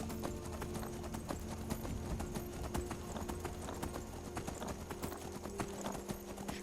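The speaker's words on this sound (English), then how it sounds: "Sure can gallop, though" Steady rhythmic hoofbeats of a horse galloping in Skyrim, continuous and fairly close, with a faint ambient hum underneath and no voices.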